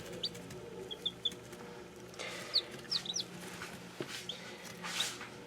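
Newly hatched Ayam Cemani chicks, under an hour old, give faint high peeps and soft chirps, scattered and irregular over a low background hum.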